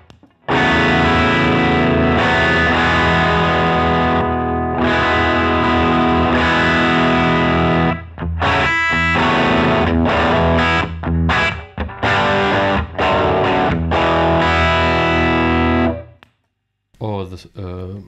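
Electric guitar played through Mad Professor overdrive and boost pedals gives a loud, distorted, saturated tone, with chords and riffs ringing close up, a few brief pauses and choppy stops near the end.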